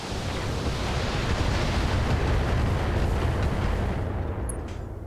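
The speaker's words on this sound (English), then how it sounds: "Firing everything I've got." Mech weapons unloading all at once in the BattleTech video game, a dense, continuous roaring barrage of blasts that stays loud for several seconds before easing slightly at the end.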